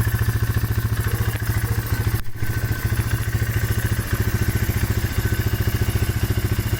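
A 1995 Polaris Magnum 425 four-valve ATV engine runs steadily at a lumpy idle, its rapid even firing pulses loud and close with a mechanical clatter, briefly dipping for a moment before settling back.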